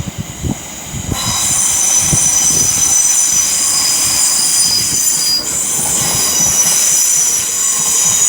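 A train departs London Euston on the West Coast Main Line, bound for Birmingham, with a loud, steady rumble, squealing wheels and faint clickety-clack as it pulls away, and no voices.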